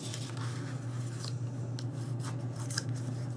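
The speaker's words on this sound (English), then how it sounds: "Score on the fold lines, fold it up and burnish." Paper fold lines being scored and burnished for a camera album box, a steady dry rubbing and scraping with a few sharper strokes, close and continuous over a low hum.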